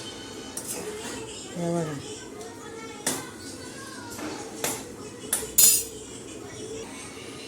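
Prawns sautéing in oil in a pan, a spatula scraping and clinking against the metal in a few sharp scattered knocks over a soft background, with a voice speaking briefly.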